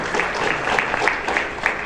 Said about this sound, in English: So I kind of want to give him a round of applause for that right now.